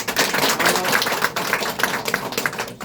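An audience at a political party gathering for a party-leader campaign claps in a dense, lively round of applause, many hands slapping at once with a rapid patter that stays loud and fairly close.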